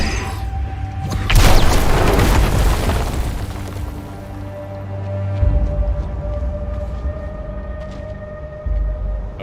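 In an Unreal Engine 5 game demo, a weapon fires and sets off a loud explosion, a deep boom with a rumbling tail that fades over several seconds.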